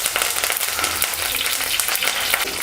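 Curry leaves sizzle and crackle in hot sesame oil alongside sautéed green chillies for a Sankara fish kulambu, a loud, dense and continuous frying hiss close at hand.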